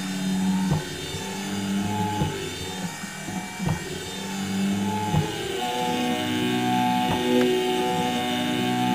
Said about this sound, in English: I got a motor control speed on that motor, but I'm not happy with the sound when you turn the RPMs down.